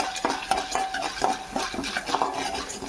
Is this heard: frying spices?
yes